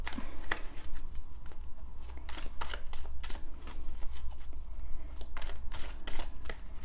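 Tarot cards are shuffled with quick, irregular papery snaps and riffles over a steady low hum, close by and with no talking.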